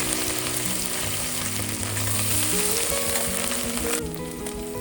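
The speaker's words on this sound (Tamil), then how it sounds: "ஸோ இதை நல்லா வதக்கிக்கலாம்" Steady, close sizzling and frying of coriander leaves and other food in a pan, loud and continuous, with faint scraping as it is stirred.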